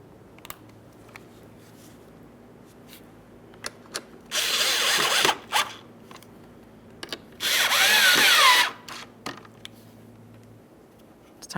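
A power tool snugs fog light mounting bolts on a 2013-2020 Ford Fusion in two loud, close bursts of about a second each, separated by a short pause, with faint clicks and handling noise around them.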